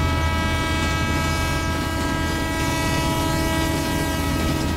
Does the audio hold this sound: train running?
yes